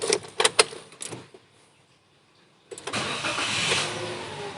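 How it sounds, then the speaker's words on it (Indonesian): A 2017 Toyota Calya G with a 1200 cc engine starts after a few clicks and a quiet pause, then settles into a smooth, steady idle heard from close by. "Kita nyalakan dulu mobilnya."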